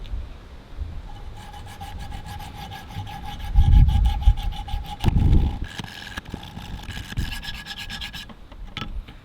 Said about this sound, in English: Now these 100 grit stones remove a fair bit of material